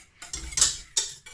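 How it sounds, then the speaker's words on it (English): A whisk working a coconut milk mixture in a bowl: a few quick bright scraping, clinking strokes at close range, separated by short pauses, with no talk. "But I'm just gonna get my whisk and whisk that up."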